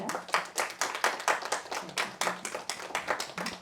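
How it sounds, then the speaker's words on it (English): Applause for guests after a film screening and discussion: a small audience clapping quietly, with uneven bursts rising and falling in quick succession. "let's have a round of applause for our guests"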